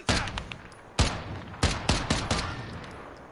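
Sniper rifle fire in a shooter game: a string of sharp, loud shots with short echoing tails, spaced irregularly over a few seconds and heard alone.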